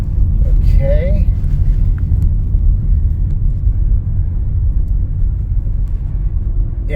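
A car drives a winding road called the Sidewinder, a steady low engine and road rumble heard from inside the car, with brief voice sounds over it.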